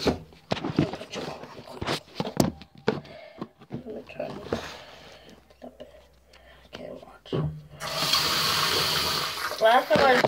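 A bathroom water tap turned on at night, first quiet between bursts of whispered speech, then a steady hiss of running water taking over near the end, close and fairly loud.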